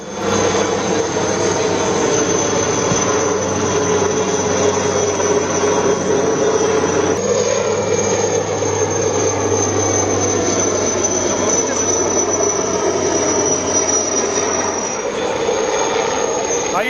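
Helicopters flying over Pahalgam, heard as a continuous loud roar of engine and rotor with a thin high whine on top, steady for the whole stretch with a slight change partway through.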